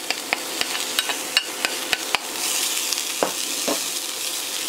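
Grated carrots, onions and parsley sizzle in oil over low heat while being stirred, giving a steady close frying hiss broken by a few sharp clicks of the spoon against the pan. No voices.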